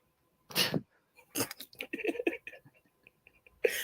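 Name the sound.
sneeze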